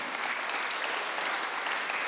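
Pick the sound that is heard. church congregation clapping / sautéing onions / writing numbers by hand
church congregation clapping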